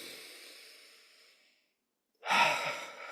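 A single deep inhale during a guided breathwork session, rising sharply after a quiet pause and lasting about a second, fairly close and breathy, with softer breath earlier in the clip and no talking.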